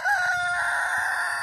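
Rooster crowing loudly and close in a backyard coop housing 26 birds, one long sustained crow over steady low clucking and shuffling from the other chickens.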